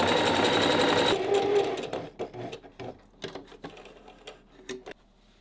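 A sewing machine runs a zigzag stitch on hoodie fabric in a brief, fast, buzzing burst lasting about a second, followed by sparse mechanical clicks and handling sounds nearby.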